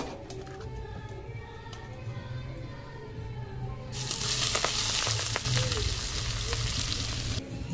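Chopped onions and spices frying in a pan at a rooftop picnic, a moderate sizzle with stirring that swells into a much louder, brighter hiss partway through, birds cooing faintly in the background.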